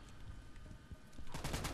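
A shotgun firing slugs in Insurgency 2, with a sharp, loud blast and its echo coming in near the end after a quieter stretch.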